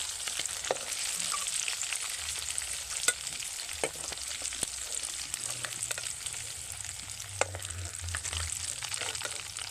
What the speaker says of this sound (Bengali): মাছগুলো খুব সুন্দর লালচে লালচে কালার করে ভাজা হয়ে গেছে।